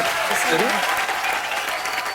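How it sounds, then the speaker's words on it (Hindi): Studio audience of The Kapil Sharma Show applauding loudly and continuously, a dense wash of clapping with a voice sliding briefly through the middle. "आइए फिर जोरदार तालियां एक बार।"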